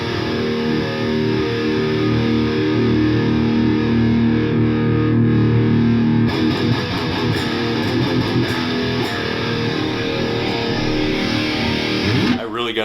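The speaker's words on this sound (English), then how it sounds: "Wow. It's like overdrive territory." Electric guitar run through heavy overdrive distortion, played in sustained gritty chords and strums that stay loud and dense throughout, with a busier, choppier passage in the second half and someone talking over parts of it.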